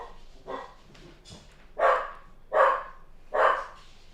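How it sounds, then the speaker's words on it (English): A dog named Max barks several times in a steady series, the later barks louder and closer, with faint softer yips before them and no talk over it. "Max is barking."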